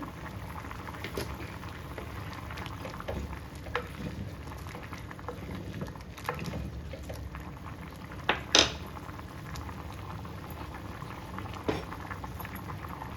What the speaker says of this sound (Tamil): நல்லா கொல கொலன்னு வேக வச்சுக்கலாங்க